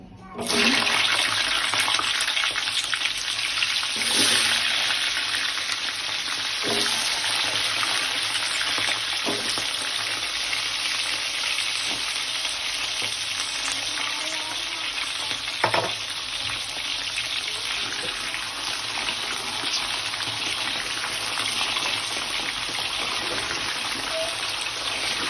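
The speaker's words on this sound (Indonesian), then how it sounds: "Kita goreng jengkolnya." Jengkol frying in hot oil in a home kitchen, a steady dense sizzle and crackle that runs continuously and close, with a few faint clinks from a utensil.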